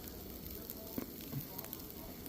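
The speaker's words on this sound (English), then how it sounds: "You can hear them sizzling pretty good" Riblets sizzle quietly on an Even Embers suitcase grill, a soft steady hiss with a few faint pops, low and brief, heard alone.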